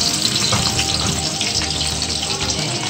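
Onions dropped into hot oil in a home kitchen, a loud, close, continuous sizzle and crackle from start to finish, with no talking.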